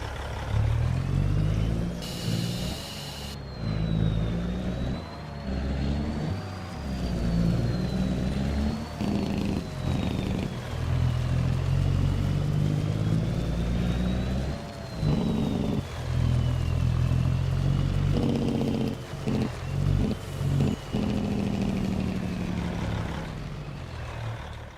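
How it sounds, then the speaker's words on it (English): A truck engine in Farming Simulator 25 drones steadily up close, its pitch rising and falling as it accelerates and shifts, with a thin whine riding above the low rumble. "Let's get this truck out of the way."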